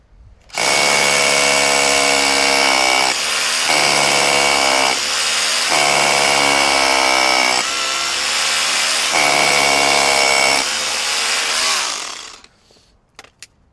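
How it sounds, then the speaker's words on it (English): A Makita DHR263Z SDS hammer drill bores into brick loudly and continuously at close range, with a harsh droning whine that dips briefly between bursts before stopping. "this smaller bit still just eats through this brick with no problem here"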